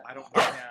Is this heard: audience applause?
no